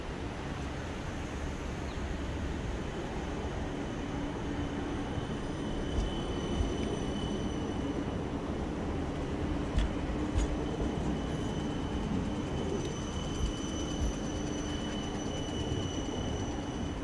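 A Sydney Trains electric train in Chinese New Year livery pulls out of Central Station, a steady rumbling roll with faint wheel squeal and clicks, heard alone throughout.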